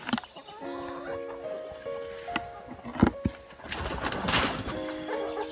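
Chickens flap and flutter eagerly toward oat feed at a backyard coop, with rustling wingbeats and scuffling building to a busy burst near the end, mixed with soft clucks and coos nearby.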